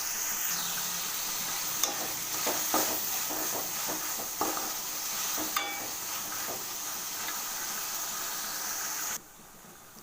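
Tomatoes frying with salt in a pan for a brinjal tamarind curry make a continuous sizzle, with scattered spatula scrapes and taps through the middle before the sound suddenly drops away near the end.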